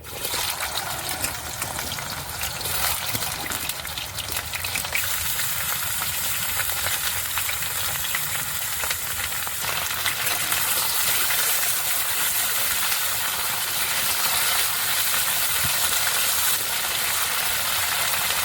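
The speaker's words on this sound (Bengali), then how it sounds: "তেলটা গরম হয়ে গেছে এবার আমি কেটে রাখা কচুগুলো দিয়ে দেবো" Cut taro pieces dropped into hot mustard oil in a kadai, giving a continuous loud, close hiss and sizzle that holds steady throughout.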